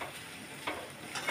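A spice tempering of coriander powder, garam masala and red chilli powder is stirred in hot oil for chivda, a soft steady sizzle with a few light stirring scrapes close by.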